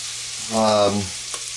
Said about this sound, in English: Some sausage, cook some sausage in there, see that?